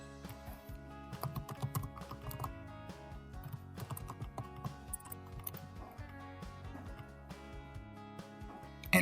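Rapid clicking of keys on a computer keyboard as a file name is typed, an uneven run of taps over a steady tonal background that sounds like music.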